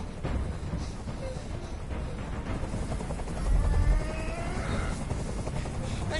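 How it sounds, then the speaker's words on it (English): A hovering helicopter in the video game Detroit: Become Human gives a constant loud rotor roar and rumble throughout, with a faint voice-like tone partway through. "Tell that helicopter to get out of here."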